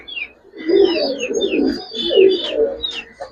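Giribaz high-flyer pigeons cooing close by in soft, repeated throaty bursts with brief chirpy overtones, several overlapping calls in under four seconds, with no one talking.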